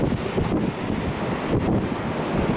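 Strong, gusting wind from a January rainstorm roars steadily and loudly into the microphone, with buffeting bursts and no voices over it.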